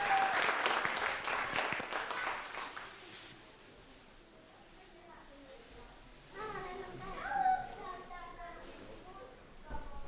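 A large hall full of people claps loudly at a dance studio Christmas concert. The applause fades after a few seconds, and a voice then speaks over quiet music.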